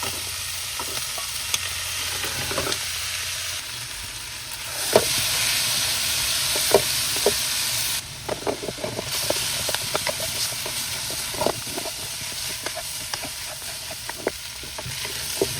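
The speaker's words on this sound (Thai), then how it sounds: "ผัดทลุกเล้าให้เข้ากันนะครับ" Squid with holy basil stir-fried in a hot wok: continuous loud sizzle and steam hiss with repeated scraping spatula strokes and clinks, no voices.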